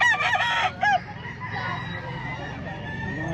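A rooster crows loudly and close by at the start, then fades into a busy background of clucking and murmuring at a chicken market in Lipa, Batangas.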